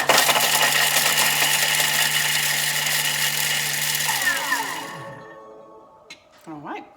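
A Thermomix TM6 chops garlic at speed 7 with its lid on, a loud, steady whirring that runs about four seconds before winding down into quieter kitchen sounds and a brief voice.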